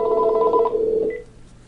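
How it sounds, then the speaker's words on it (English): Tonal dialing or ringback beeps from a home landline being called through the Gizmo Project internet calling service, a steady pulsing tone for about a second that then fades out, with no one talking. "I'm using Gizmo right now to call my home phone."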